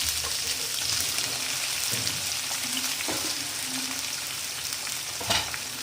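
Chopped tomato sautés in a pan with ginger-garlic paste for an aloo parwal dry sabzi, giving a steady close sizzle with soft stirring and a brief scrape near the end.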